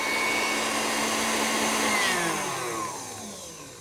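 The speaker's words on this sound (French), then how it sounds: "à mi-parcours, je vais arrêter le batteur" An electric stand mixer beats cake batter for a croquembouche with a loud, steady whirring drone that winds down toward the end as it is switched off.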